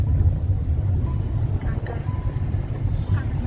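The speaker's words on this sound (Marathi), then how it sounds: "काका ड्रायव्हिंग करत आहेत." A car engine hums steadily while the vehicle is driven, a low continuous rumble heard from inside the car with slight fluctuations in level.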